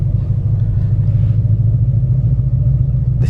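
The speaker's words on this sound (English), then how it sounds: "Hit the gas, there you go." Ford Mustang 5.0 engine accelerating, a deep, loud, steady low rumble heard from close range, continuous for a few seconds without much rise in pitch.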